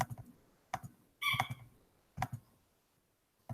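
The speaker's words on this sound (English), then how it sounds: "And then I'm just clicking and then releasing and dragging to go across to make it a polygon." Computer mouse clicks while a polygon is drawn in an online mapping tool, in four or five sharp, close, separate bursts with quiet gaps between, one a quick double click.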